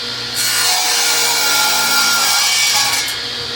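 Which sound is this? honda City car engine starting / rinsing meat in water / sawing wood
sawing wood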